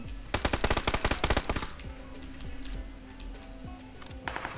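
Rapid bursts of automatic gunfire in PUBG, a dense string of close, loud shots followed by scattered fainter single shots and distant fire, with no talking.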